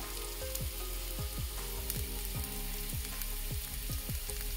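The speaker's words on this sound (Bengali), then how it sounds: "একটু ফ্রাই করে নিলাম।" Spiced food frying in hot oil in a pan for a medium-spicy home dish, giving a steady close sizzle with soft repeated scrapes from stirring throughout.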